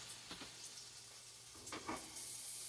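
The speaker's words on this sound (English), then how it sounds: "while our tomatoes are cooking, we do want to add our shrimp in there" Shrimp cooking with tomatoes in a pan gives a faint, low sizzle, broken by a couple of brief scraping stirs, quiet and close with no speech.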